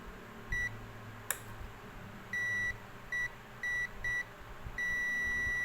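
A multimeter beeps while testing the on/off power switch of a JVC amplifier power supply. A steady electronic tone sounds in several short and long bursts at irregular intervals, with faint clicks of handling between them.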